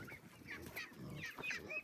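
Turkeys and guinea fowl call in a backyard aviary, a few faint, short squawks and honking cries scattered over about two seconds against soft outdoor background noise, with no talk.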